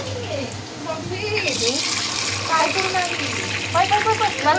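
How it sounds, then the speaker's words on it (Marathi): Water poured into a cooking pot for a fish curry, a continuous splashing, gurgling stream with rising bubbly tones, while a voice speaks briefly over it. "पाणी ॲड करून घ्यायचं."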